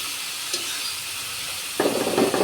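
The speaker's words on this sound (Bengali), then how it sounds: "আমি আবার একটু ওই কষানোর ভিতরে মাছ দিয়ে একটু আবার একটু কষাই নিই" Catfish hitting a hot pan of spiced masala, a faint steady hiss suddenly swelling into a loud, crackling sizzle near the end, with no voices.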